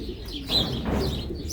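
Close, low pigeon coos rumble softly, with a faint chirp from other birds nearby.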